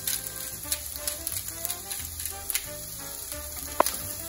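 Onion fries in olive oil in a pan, a steady close sizzle with scattered pops and crackles and no voices.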